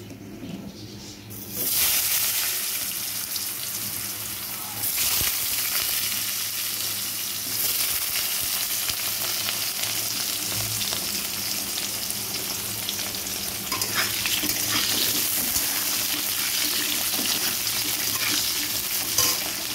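Potatoes seasoned with salt fry in a wok of hot oil tempered with nigella seeds and dried chillies, just after fish was fried. A loud, steady sizzle runs throughout, with faint stirring scrapes and no talk.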